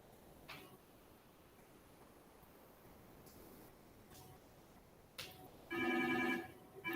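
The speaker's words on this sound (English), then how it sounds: "Okay, give me 2 seconds. I'm just gonna answer the phone." A telephone rings near the end, a short electronic ringtone burst rising over a hushed room with faint rustles and soft ticks, fairly quiet and somewhat distant.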